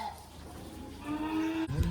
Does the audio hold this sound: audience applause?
no